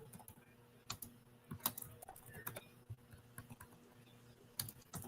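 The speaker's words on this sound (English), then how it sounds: "I'm typing this as I'm saying it so I can pin it in the chat." Typing on a computer keyboard, with a steady run of quick irregular key clicks and occasional louder taps, close but quiet, over a faint background hum.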